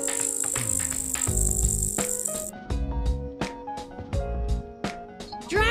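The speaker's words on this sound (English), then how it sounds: "Grasshopper." Grasshopper chirping, heard as a dry, raspy high-pitched rattle lasting a couple of seconds over bouncy background music, which carries on after it stops.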